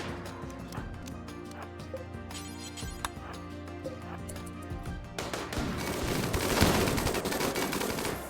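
Rifle gunfire in the colony game RimWorld comes as scattered sharp shots early on, then a dense rattling burst of rapid fire that grows louder toward the end.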